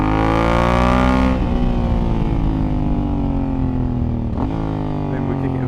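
A Honda Africa Twin motorcycle pulls hard through its gears, the close, loud engine note rising steadily, then dropping sharply at each upshift before climbing again; no speech.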